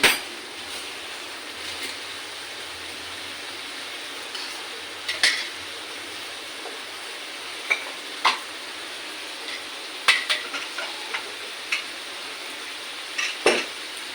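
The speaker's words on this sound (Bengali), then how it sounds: "এবার আলুগুলো ছেড়ে দেওয়া হবে।" Potatoes drop into hot oil in a kadhai while egg curry is cooked, giving a steady sizzle of frying broken by scattered clinks and scrapes of a utensil against the pan.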